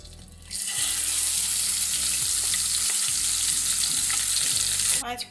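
Fish frying in hot oil, a loud, close, continuous crackling sizzle that starts abruptly and runs steadily for about five seconds before cutting off, with a faint low tone underneath.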